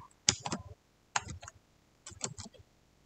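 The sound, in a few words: typing on a computer keyboard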